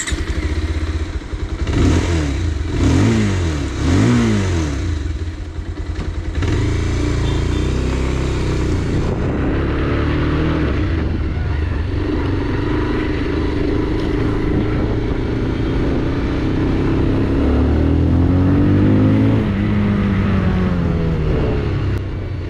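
A Bajaj Pulsar 220F engine revs up close several times in quick rising and falling bursts, then settles into a steady idle before revving again in longer smooth sweeps.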